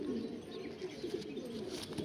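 Pigeons from a personal bloodline coo softly, a faint low continuous burbling close by, alone without talk.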